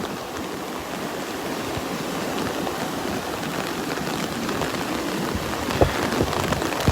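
Rain from a band at the very tail end of Tropical Storm Sally pours on the Southwest Florida coast near Vanderbilt Beach, an even, close hiss of drops with a couple of sharper splats near the end.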